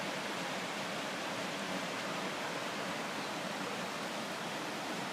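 Pistyll Rhaeadr waterfall in North Wales roars as a steady, dense rush of falling water, continuous and fairly close with no breaks, and no voices.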